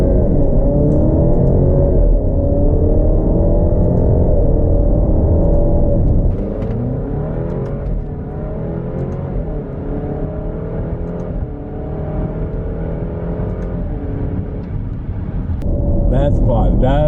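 A 2018 Alfa Romeo Stelvio 4-cylinder SUV accelerating hard in manual mode, its engine note loud and rising through the gears from inside the cabin, with a brief drop at a shift and a climb again near the end.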